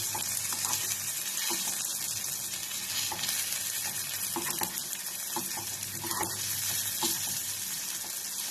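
Aloo poha vadas fry in a pan of oil, a constant dense sizzle close by, broken by repeated soft clinks and scrapes as they are turned over and over.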